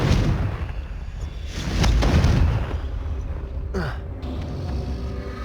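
Confringo blasting spells explode in the Hogwarts Legacy video game, heavy rolling booms and rumbling blasts swelling and fading loudly over several seconds, with a brief whooshing streak partway through.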